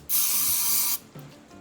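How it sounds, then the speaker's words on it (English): A strong, steady burst of aerosol brake cleaner blasts onto a brake caliper for just under a second, close and loud, followed by a faint brief rattle. "A good squirt out with the brake cleaner."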